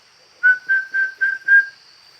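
A person whistles five short, evenly spaced tonal notes in a steady rhythm, imitating a turkey call as heard during turkey hunting; close and clear over a faint, steady background hum, with no talking.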